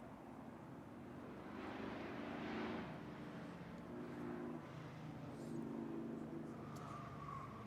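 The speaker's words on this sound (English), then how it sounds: "Colina Joy in her 1999 Mazda Miata" A 1999 Mazda Miata race car runs on a track at Lake Elsinore, California, its engine a steady distant drone with rising and falling pitch as it passes, beneath constant background noise.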